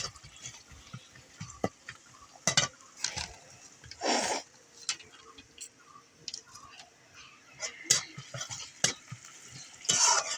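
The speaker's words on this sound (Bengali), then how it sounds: "পেঁয়াজটাও ভাজা প্রায় হয়ে গেল।" Onions frying in a pan for egg curry: a quiet sizzle broken by irregular stirring scrapes and clicks, with one longer louder scraping burst midway.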